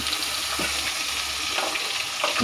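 Turmeric, chili, onion, ginger and garlic tipped together into a hot rice cooker give a steady, close sizzling hiss that runs without a break, with no voices.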